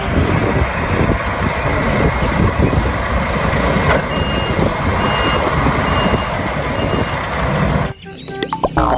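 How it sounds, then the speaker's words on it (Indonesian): Toy concrete mixer truck giving a steady stream of electronic reversing beeps, loud and close, over continuous motor-like noise that cuts out briefly near the end. "ada mobil truk molen."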